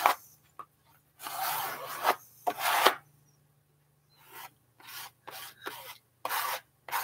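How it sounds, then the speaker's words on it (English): A plastic Bondo spreader drags peach-colored paint across a surface in short, close rasping strokes, several loud sweeps followed by a quicker run of brief scrapes with quiet gaps between them. "Just use my Bondo spreader so I can get it covered quickly."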